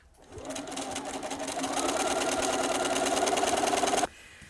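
A sewing machine stitches a flat-ironed linen place mat, starting up and then running in a fast, steady mechanical whir before stopping abruptly.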